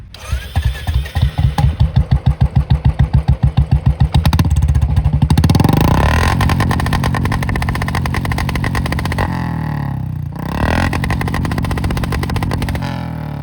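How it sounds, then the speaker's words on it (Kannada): A Royal Enfield Bullet 350 BS4 motorcycle with an aftermarket silencer gives a rapid train of cranking pulses, catches, and revs loudly. It then settles into a deep, steady thumping idle, close by and with no talk. "ಈ ಗಾಡಿದು ಸೈಲೆನ್ಸರ್ ಒಳ್ಳೆ ಸಖತ್ತಾಗಿ ಸೌಂಡ್ ಇದೆ ಇದು ಅಂದ್ರೆ ಪಟ್ ಪಟ್ ಪಟ್ ಪಟ್ ಸೌಂಡ್ ಇದೆ"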